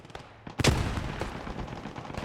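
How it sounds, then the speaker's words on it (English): Aircraft strafing gunfire in the Post Scriptum war game, a sharp loud burst of rapid shots cracking in after a few faint distant pops, then rattling echoes and battle rumble trailing off. "strafe comes in, but it misses once again"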